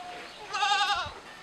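A male breeding goat on a farm gives a single wavering bleat, close and moderately loud, over quiet background.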